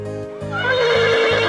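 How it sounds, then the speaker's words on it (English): A horse by a carriage in the game The Alchemist of Ars Magna gives a loud, close whinny that rises and shakes in pitch, over a low repeating background tone. "People at the inn brought our horse carriage out."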